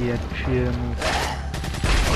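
Gunfire in Resident Evil 4 Separate Ways, with a TMP submachine gun, comes as rapid mechanical bursts and cracks over steady game noise and music, ending in a louder blast near the end, while someone talks briefly.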